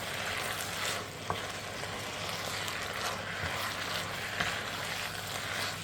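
Chicken chow mein frying and being stirred in a pan, a steady close sizzle with soft scraping and an occasional light knock.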